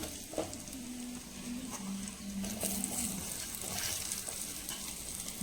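Boiled amla gooseberries go into a hot pan of oil and spices for pickle, giving a steady moderate sizzle with light stirring scrapes and faint pattering throughout.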